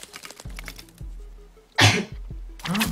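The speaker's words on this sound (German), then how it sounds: "Nee, der Huster." A single short, harsh cough bursts out loud and close in a quiet indoor survival-game scene set in a forest, with low background hum and a second rougher burst near the end.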